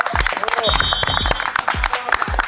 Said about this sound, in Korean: 자 여러분 박수 한번 주세요